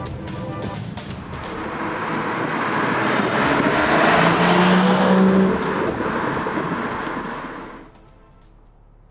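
A BMW 340i xDrive F30 3-Series with the B58 turbocharged six accelerates hard, engine note swelling loudly and rising in pitch over several seconds before cutting back abruptly near the end; no one talks.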